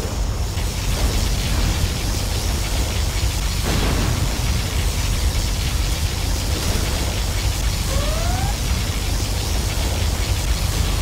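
Particle cannon firing in Command & Conquer Generals Zero Hour, a sustained roaring, hissing blast of dense noise that holds loud across the whole stretch with a brief rising whine near the end, no talking.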